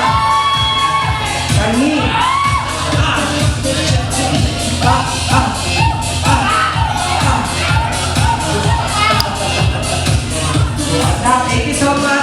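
A crowd at a Sonyu 2025 contest claps and cheers for entry number 4, loud and continuous with rhythmic thumping, whoops and shouts throughout, a voice briefly calling over the noise.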